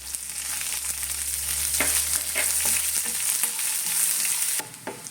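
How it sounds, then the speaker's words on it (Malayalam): Sliced shallots fry in hot oil with dried red chillies, making a loud, dense crackling sizzle with occasional stirring, heard close throughout until it drops off near the end. "നമുക്ക് ഇതിലേക്ക് അരിഞ്ഞു വെച്ചിരിക്കുന്ന ചുവന്നുള്ളി ഇട്ട് കൊടുക്കാം"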